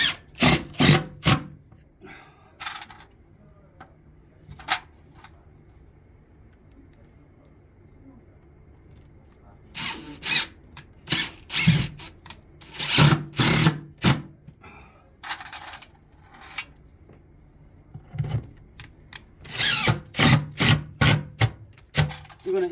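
Bursts of a power drill driving screws into birch plywood whir in short repeated runs, close and loud, with pauses between and a person talking at times.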